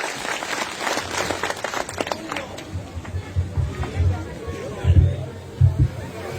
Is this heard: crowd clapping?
yes